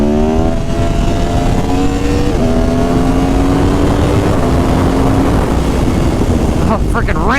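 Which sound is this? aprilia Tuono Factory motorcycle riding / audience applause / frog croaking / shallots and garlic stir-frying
aprilia Tuono Factory motorcycle riding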